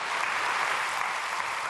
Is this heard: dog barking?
no